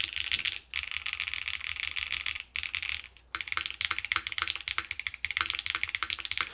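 Typing on a Tofu60 mechanical keyboard with gasket mount, soft clacky keystrokes in fast continuous bursts with brief pauses, close and clear, no talking.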